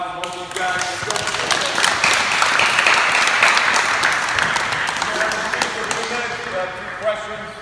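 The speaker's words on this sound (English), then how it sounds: "So let's have a great round of applause for both these guys" Audience applause at a basketball camp, a broad sustained wash of clapping lasting throughout, fairly loud and near, with voices talking over it.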